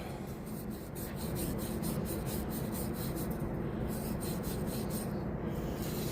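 The bottom of a Honda GCV carburetor bowl being scrubbed with a cloth produces faint, steady rubbing and rasping strokes in quick repeated rhythm, quiet and close, without talk.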